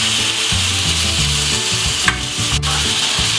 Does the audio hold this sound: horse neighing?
no